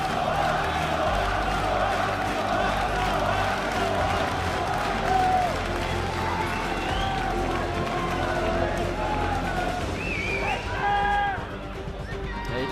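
A big esports arena crowd roars and cheers steadily for teams with French players, loud and continuous, while a commentator talks over it.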